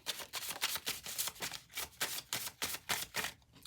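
Tarot cards shuffle steadily in quick riffling bursts, a close, crisp rhythmic flutter repeating about every third of a second with no voices.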